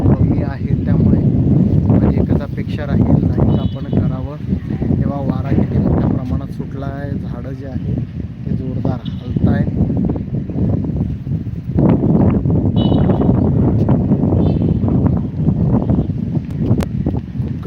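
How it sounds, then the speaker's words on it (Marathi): Strong stormy wind rushes through trees in a continuous, loud roar with gusts and microphone buffeting, while a person talks over it throughout. "गार वारा या ठिकाणी सुटलेला आहे"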